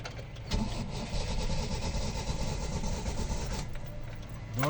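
A manual-transmission car engine turns over and runs with a steady, loud mid-pitched rumble, alone without voices, swelling slightly as it catches.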